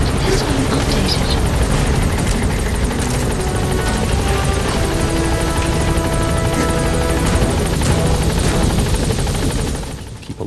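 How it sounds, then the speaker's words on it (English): A support helicopter in Metal Gear Solid V: The Phantom Pain thrums loud and close, a steady chopping roar that holds for about ten seconds before fading away at the end. "Support helicopter has arrived."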